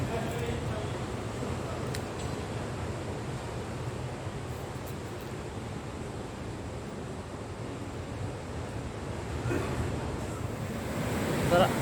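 Sea waves surging along a Moroccan shoreline form a steady, broad wash of surf with wind noise across the microphone, rising a little louder near the end, with no clear talk.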